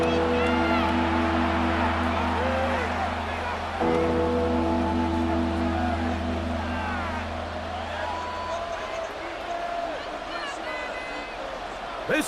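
A stadium crowd in the Madden NFL 26 football video game keeps up a loud, continuous roar with whoops, building for third down, while commentators talk over it.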